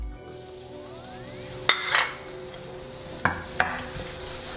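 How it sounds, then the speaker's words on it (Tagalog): Garlic and onion sautéing in hot oil, a soft steady sizzle broken by a few sharp clinks and scrapes of a utensil against the pan, close by, with no talking. "nagpainit lang ako ng mantika tapos magigisa tayo ng garlic and onion"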